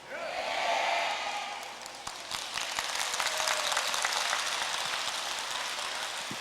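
Audience at a Buddhist monk's talk at an international Buddhist expo in Busan: a brief swell of crowd cheering gives way to steady, crisp applause from many hands, lasting several seconds.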